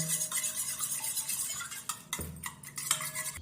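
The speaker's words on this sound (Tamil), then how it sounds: "முட்டையை உடச்சி ஊற்றிட்டு அதை நல்லா பீட் பண்ணிக்கோங்க நல்லா கிண்டி விட்டுருவோம்" An egg being beaten in a bowl, quick stirring and clinking of utensil against the bowl in an uneven rhythm, close and fairly loud, with a few sharper knocks near the end.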